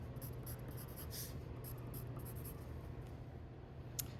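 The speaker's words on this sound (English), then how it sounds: "I'm going to use a pencil to go ahead and just write my name on both pieces of paper" A pencil scratches on paper, a quiet run of short rhythmic strokes with small pauses, as a name is written by hand, with a low steady hum underneath and no talking.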